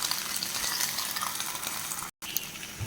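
Fish, a bhola fish with dried red chillies, fries on a banana leaf in oil, giving a continuous close sizzle with small crackles, briefly cut off by a split-second gap of silence.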